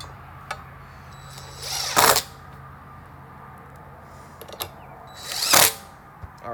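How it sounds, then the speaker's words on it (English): Two short bursts of a power drill driving screws into wood whir loudly a few seconds apart, with faint clicks and quiet room noise between them. "whenever you're screwing them in, that you're not just putting a lot of force or letting the drill spin"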